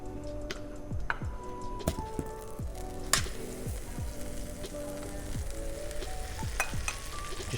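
Butter melting and sizzling in a warming pan in a professional chef's kitchen, a steady soft frying hiss with scattered light pops and a few sharp clinks throughout, no talking.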